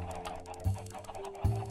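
Chickens in a farm video game cluck twice in low, short bursts over a steady bed of game ambience and music.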